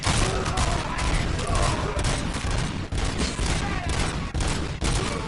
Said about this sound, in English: I think this shooting's annoying.